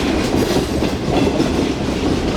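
The Shalimar Express passenger train rolls across the Mehran Bridge with a loud, steady clickety-clack of wheels on the rails and a continuous rumble close by.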